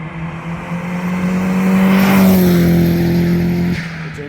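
A turbocharged Ford Figo car engine revs up loud and close, a steady droning note that climbs in pitch and volume, peaks, then cuts off abruptly near the end.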